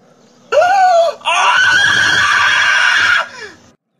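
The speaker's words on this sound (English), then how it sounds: "I'm going to scream at the park." A loud, sustained scream from a person at a park, rising sharply, breaking off briefly, then holding steady for about two seconds before trailing away, with a shrill, whinny-like quality.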